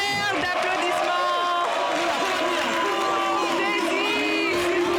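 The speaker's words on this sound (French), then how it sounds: "Un tonnerre d'applaudissements." An audience at a televised entertainment show cheers and whoops while applause runs beneath, a lively crowd roar with shouting voices and some sung or sustained tones layered on top.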